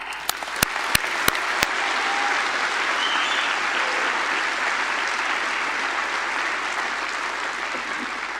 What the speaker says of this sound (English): Please join with me in applauding them